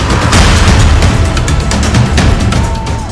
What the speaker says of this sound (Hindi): हाथ में पिस्टल लिए पिस्टलबाज भी स्टेज पर आ धमके और फायरिंग करनी शुरू कर दी